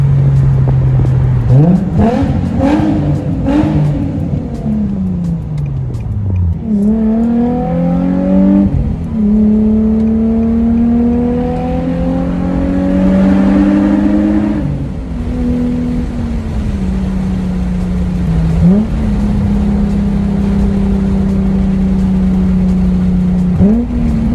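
Nissan 350Z on a test drive after a differential and transmission fluid change, its engine revving up through the gears with clear rising whines and shift drops, then cruising at a steady, close, loud drone.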